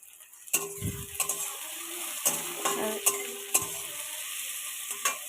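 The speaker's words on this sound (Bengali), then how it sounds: "পেঁয়াজ কলি আর বেগুনটা ভাজা হয়ে গেছে" Onion stalks and brinjal fry in a pan with a steady sizzle. Sharp knocks of a spatula stirring against the pan break in every second or so, near and fairly loud, with no talk.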